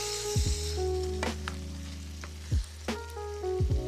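Petite diced tomatoes being stirred into a sizzling sauce for mac and cheese lasagna, with a steady frying hiss and several scraping sweeps of the spoon against the pan, close and without talk.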